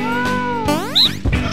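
A cat meows in the video game No More Heroes 2: Desperate Struggle, giving a few short, close, clear mews in quick succession.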